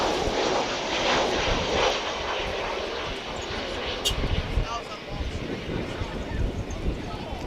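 American Airlines Airbus A319 jet airliner passing at DFW Airport, a loud, steady broadband engine roar with wind rush that holds throughout, heard close and alone.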